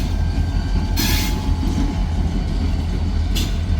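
Two locomotives rumble steadily along the rails, with a heavy low drone and brief hissing or squealing bursts from the wheels.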